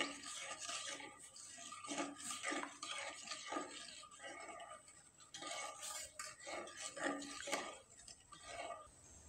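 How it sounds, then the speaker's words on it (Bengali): Milk and jaggery are stirred in a pot with soft, rhythmic scraping and sloshing strokes, faint and close, repeating steadily with no voices. "আর এখন খুব ভালোভাবে একটু নেড়ে চেড়ে নিতে হবে"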